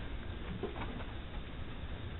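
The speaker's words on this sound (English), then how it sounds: "Birds." Birds coo softly, with a brief faint call rising once over a low, steady indoor-sounding background hiss.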